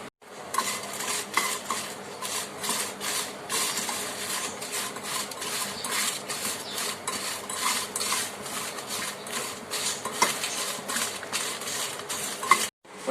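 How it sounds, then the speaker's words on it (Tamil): Continuous scraping and rattling of dry chillies being stirred and roasted on a metal tawa pan, steady and close, with no voices. "அடுப்பில் இந்த மாதிரி ஒரு தவால போட்டு நல்லா ரோஸ்ட் பண்ணிக்கணும்."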